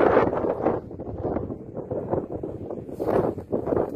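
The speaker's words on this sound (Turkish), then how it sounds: "rüzgar ters yöne esiyor" Wind gusting across open ground during a stubble fire in Sivas, Turkey, a rough blustery rumble buffeting the microphone in uneven surges, loud and close, with no voices.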